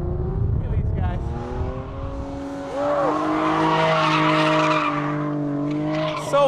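Drift cars skid at a Utah drifting event, tires squealing in long sustained wails over a roaring, revving engine, with a loud wide-band squeal building from midway and a crowd or voices faintly underneath.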